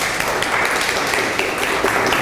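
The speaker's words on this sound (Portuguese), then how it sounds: "Por favor, uma salva de palmas." An audience at an agroecology event applauds steadily, a dense wash of clapping that holds at an even level throughout.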